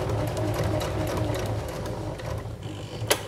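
A sewing machine stitching a zigzag in reverse on fabric for a drawstring bag, giving a steady close mechanical whirr with a rapid even needle rhythm that runs throughout, ending with a brief click.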